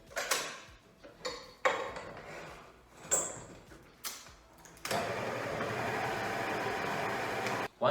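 Dark chocolate and coffee mud cake batter with vanilla is mixed in a bowl: a few separate clinks and scrapes, then a loud, steady whirring mixing noise that runs without a break almost to the end.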